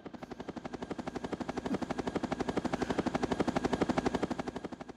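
A helicopter sound effect from a SoundFont/DLS synth player app gives a steady, rapid rotor chop of rhythmic thumping pulses, continuous and moderately loud throughout.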